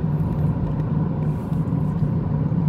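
A Toyota car driving along a road, heard from inside as a steady, loud low engine and road rumble with a constant hum, continuous and unvarying, no talking.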